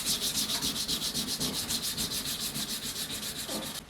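A knife blade is sanded by hand with 600 grit paper, a close, steady rhythmic rasping of quick back-and-forth strokes running continuously without speech.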